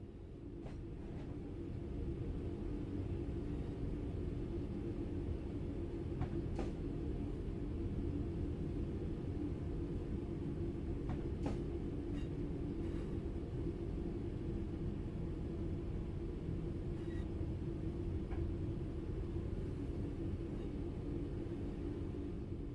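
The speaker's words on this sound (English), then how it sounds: "The train will then coast on level ground, and the train will only slow down very gradually." A train coasting on level ground in Train Sim World 4 after the throttle is cut, a steady low rumble and wheel noise that holds even throughout with occasional faint clicks from the track, no voices.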